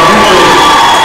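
A basketball crowd in a gym roars and cheers loudly for a women's college game, a dense sustained wall of voices with shouts and whoops, brief and intense.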